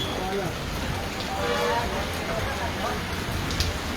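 Unseasonal rain falls steadily on a rural area of Halvad during the cotton and groundnut harvest season, a dense continuous patter of drops on surfaces that holds at an even loudness throughout.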